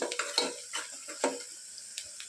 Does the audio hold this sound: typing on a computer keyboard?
no